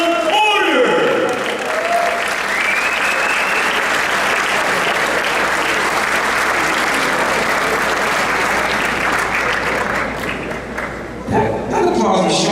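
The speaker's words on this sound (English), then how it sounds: "That applause was short." An audience applauds as a former WBC welterweight champion boxer is welcomed: loud, sustained clapping and cheering that fills the room, preceded by an announcer's voice and fading out near the end as someone starts talking.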